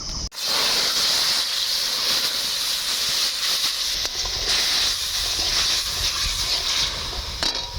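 Tomato paste hits hot white oil in a wok as homemade pizza sauce begins, giving a loud, steady, hissing sizzle that runs close and continuous throughout, with no talking.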